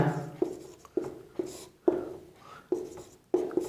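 Chalk or marker taps and scratches on a board during a maths lesson on divisibility, coming as short sharp strokes in an irregular rhythm, fairly close and quiet, with no voice.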